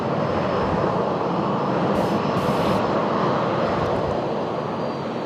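An Avianca Boeing 737-700 jet taxis at an airport, its engines giving a loud, steady broadband roar that holds throughout without voices.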